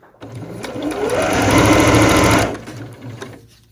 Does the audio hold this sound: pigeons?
no